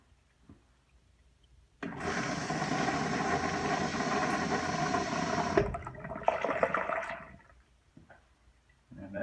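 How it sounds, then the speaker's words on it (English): An American Standard toilet flush valve flushes in a loud rush of water lasting about four seconds, then drops to a quieter refill gurgle and fades; no voices. "when I move, it should flush"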